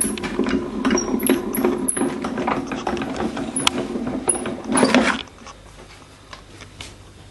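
A hand-cranked embossing machine with a handle that needs oiling is wound through, giving a steady grinding, squeaky mechanical rattle close up for about five seconds before it stops and the room goes quiet.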